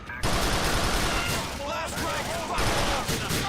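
Rapid pistol fire from GTA IV: The Lost and Damned crackles in a dense, loud burst of overlapping shots that keeps going throughout, with a voice talking faintly underneath.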